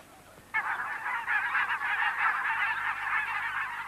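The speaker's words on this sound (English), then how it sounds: "Some, like barnacle geese, move north to take advantage of the very short but abundant Arctic summer." A flock of barnacle geese honks continuously, a dense overlapping chorus of calls that starts abruptly and holds steady and loud throughout, with no talk.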